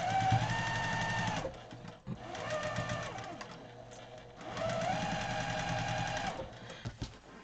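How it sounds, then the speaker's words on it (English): A sewing machine stitching quilt blocks hums up close in three steady runs of a couple of seconds each, separated by short pauses, with no talk over it. "Maybe the sewing machine is soothing for her."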